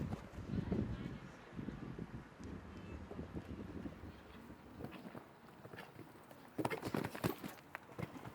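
Hooves of a big, strong Dutch-bred show jumper, a son of Voltaire, during a round at the South African Show Jumping Championships, soft irregular thuds under wind noise and a commentator's voice, with a louder cluster near the end.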